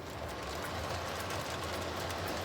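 A Lionel model train tender rolls along toy track after a truck repair, giving a steady, soft rumbling whir with faint rhythmic clicking, close by and quiet, with no talk over it.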